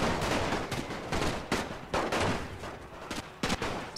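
Battlefield gunfire and artillery from the video game The Great War crackle in dense, overlapping bursts, a continuous distant barrage with sharp reports scattered throughout.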